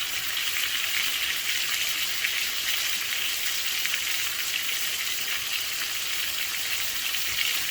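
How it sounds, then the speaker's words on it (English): A chuck roast sears in a pan, giving an even, hissing sizzle that runs unbroken at moderate volume for several seconds, with no talking. "for the bigger the roast, you may have to sear these sides a little longer"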